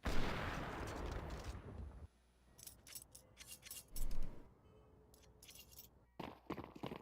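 Gunfire in Counter-Strike 2 during a competitive match: a loud burst of dense noise at the start, then sparse sharp shots and clicks, with a heavy crack around the four-second mark and more bursts near the end.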